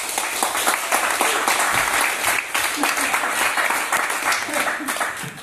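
Applause at a Grøndal EV trophy celebration for a player called Mix 1, a steady dense wash of clapping from the crowd filling the room, with voices mixed in underneath.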